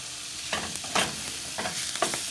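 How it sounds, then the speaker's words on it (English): Turkey testicle stew fries in a pan with paprika and onions, a moderate steady sizzle broken by a few scraping stirs and crackling bursts, close by and without speech. "we're going to fry that for a while"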